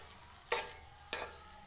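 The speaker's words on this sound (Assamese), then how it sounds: "আৰু মই অলপ সময় ভাজি থাকিম" Grated coconut and sugar frying in a pan, turning sticky, gives two short, sharp spatula scrapes about half a second apart over a faint, quiet background.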